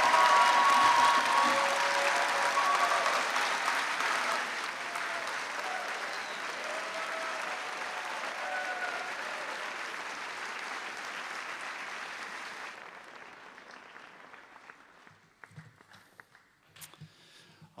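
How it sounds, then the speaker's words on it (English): A large audience at a medical school commencement ceremony applauds the graduates in a loud sustained round of clapping that gradually fades, leaving scattered claps and a few voices at the end. "Let's give them one more round of applause."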